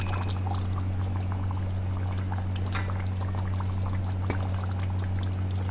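Saffron threads soaked in a quarter cup of milk are poured into a Hyderabadi dum ka gosht (mutton) pot, giving a soft, steady pour over a constant low kitchen hum with no talking.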